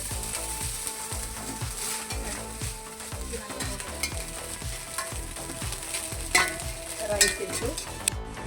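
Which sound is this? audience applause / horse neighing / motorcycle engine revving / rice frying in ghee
rice frying in ghee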